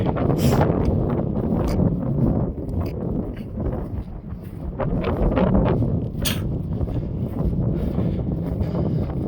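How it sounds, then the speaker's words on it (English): Cold wind blows hard outdoors on a hillside, roaring and buffeting the microphone continuously at close range, with a faint rustle underneath. "Oh god, it's cold. That's a cold wind."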